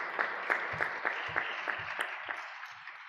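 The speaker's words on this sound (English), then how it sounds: "So give yourselves a round of applause for that." A room of guests at a speaker-series event claps, with a few distinct, heavier hand claps standing out rhythmically over a thinner wash of applause that fades toward the end.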